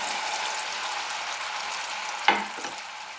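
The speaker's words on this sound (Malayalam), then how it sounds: "ലോ ഫ്ലെയിമിൽ ഇങ്ങനെ ആ നെയ്യിൽ കിടന്ന് ഇതിൻ്റെ വെള്ളമൊക്കെ ഒന്ന് വറ്റിയെടുക്കുക" Pineapple fries in ghee over a low flame for payasam, a soft even sizzle held throughout, broken near the end by one sharp clack of a spoon against the pan and a fainter scrape after it.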